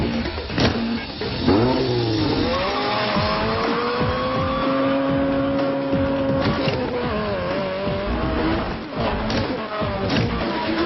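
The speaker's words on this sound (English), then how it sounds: "This is being driven by Brian, aka Paul Walker, who proceeds to have a pointless sequence to show us he can drive, baby" A car in a film chase scene revving and accelerating hard, a steady engine roar with rising pitch sweeps and brief tire squeal, loud and continuous over a busy soundtrack.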